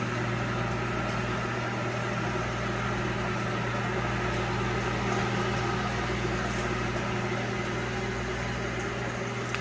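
Microwave oven humming steadily while cooking three pieces of bacon, a constant close drone with a low hum and no talking.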